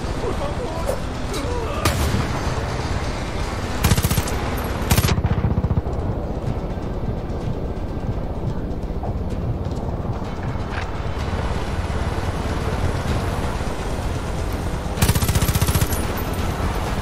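In Far Cry 5, hippie enemies fire guns in repeated loud bursts and rattling volleys over a constant mechanical, engine-like din, with someone talking now and then.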